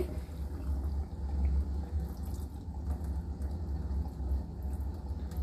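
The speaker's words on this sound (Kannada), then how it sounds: "ಬಿಸಿ ನೀರು ಹೇಗ್ ಬಿಡ್ತಾ ಇದೆ ನೋಡಿ" Hot water runs steadily inside a dishwasher as it fills, a soft continuous rush with a low hum beneath and no talk.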